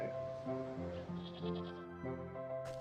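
A ram bleats in the Wytchwood video game, several wavering, nasal bleats in close succession, loud and near, ending in a short bright sound.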